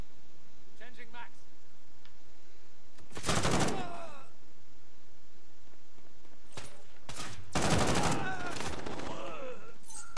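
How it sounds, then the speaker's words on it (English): Call of Duty Modern Warfare gunfire in a hardcore team deathmatch, two loud rapid automatic bursts separated by quieter stretches with a few shorter shots, and a player talking over the action. "I'm shooting right at him!"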